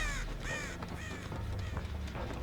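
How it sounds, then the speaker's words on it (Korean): Several harsh crow caws from the horror game Dead by Daylight ring out in a rising-and-falling series over a low ambient game rumble, fairly close and clear, with no talking. "까마귀 소리가"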